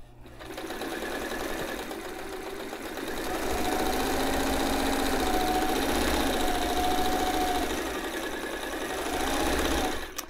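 A White 173 sewing machine, a thrift store find with no separate speed control, runs fast and continuously for about ten seconds, a loud close whirring drone with a faint whine that swells midway.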